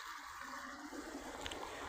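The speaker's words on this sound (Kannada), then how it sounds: "ಎಲ್ಲ ಹೋಗಿಬಿಡ್ತಾವ್ರಿ ನೀರು ಫ್ರೆಂಡ್ಸ." Irrigation water drains steadily out of a pigeon pea field, a continuous close rushing and gurgling flow with no break.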